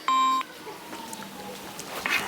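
A phone ringing tone sounds as a short, loud electronic beep with stacked harmonics, heard once at the start, then quieter background noise follows.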